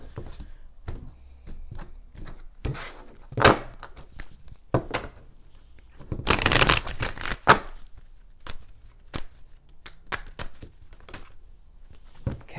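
Tarot cards being shuffled make a scattered run of soft slaps and riffles, with one longer, denser shuffle burst in the middle, close up in a quiet room.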